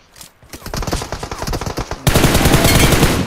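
Video game gunfire: a burst of rapid machine-gun shots with distinct cracking reports, then a dense, continuous loud fusillade, close and punchy.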